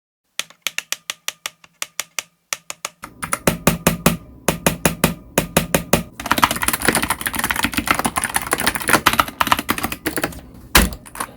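Keys on a wooden COX CV108 keyboard clack and rattle in quick runs of typing, sparse taps at first, then a dense, continuous flurry of keystrokes, close and crisp.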